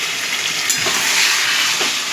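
Taro leaves go into hot oil tempered with bay leaf and chilli, a loud, even hissing sizzle that fills the whole moment, with a brief lower thump partway through and no talking.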